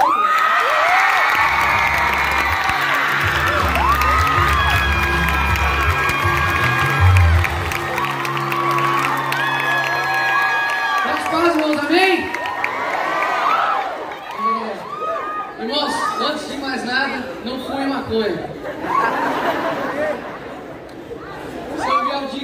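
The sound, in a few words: crowd cheering and applauding a councillor's entrance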